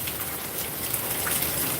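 Rain falls steadily on a garden in Georgia, a dense, even hiss of drops on surfaces at moderate volume, with no voices.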